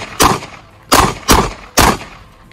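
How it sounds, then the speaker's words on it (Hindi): Four sharp, loud gunshots at close range during a firing drill, one then a pause, followed by three in quick succession, each with a short echoing tail. "पहले आप एक एक राउंड तीनों पे ड्रॉप करें, उनको पीछे करें, उनको जख्मी करें"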